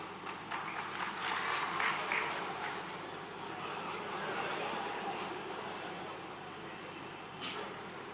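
A crowd applauds at a Raj Thackeray political rally in Maharashtra, a broad, sustained wash of clapping from a large audience with steady density and a slight swell in the first seconds.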